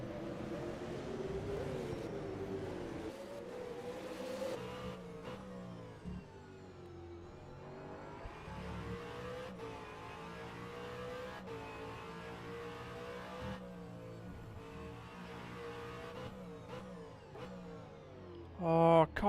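V8 Supercar race cars, Holden Commodore ZB and Ford Mustang, racing at Adelaide in a sim racing video game, with engines revving and shifting through gears, pitch rising and falling, and a louder burst at the end.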